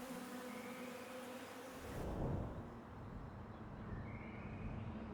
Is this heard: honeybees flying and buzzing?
yes